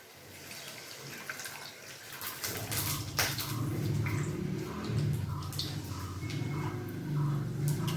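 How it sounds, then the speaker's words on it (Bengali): Water is poured into a ready, oil-separated vegetarian gravy with boiled potatoes in a pan for a Bengali matar dal bora jhol. It makes a steady, moderate splashing rush that starts after a quieter moment and continues throughout. "এখন এটার মধ্যে আমি দিয়ে দেবো পরিমাণ মতো জল।"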